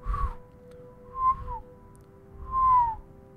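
Person attempting to whistle: three short, thin whistled notes, each sliding slightly downward, separated by pauses, faint and breathy over a quiet background hum.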